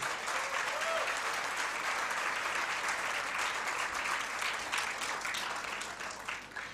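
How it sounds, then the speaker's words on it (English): An audience at the 2023 convocation ceremony of Ramnarain Ruia Autonomous College in Mumbai gives steady, dense applause that holds for several seconds before slowly tapering off, with no talk over it. "let's have a big round of applause for them"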